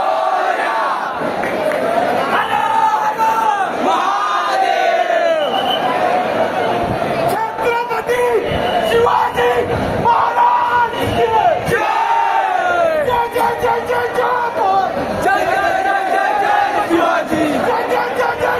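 Dense crowd at Dagdusheth Ganpati darshan in Pune, a continuous loud roar of many voices and shouts filling the space throughout, with chanting-like cries rising and falling.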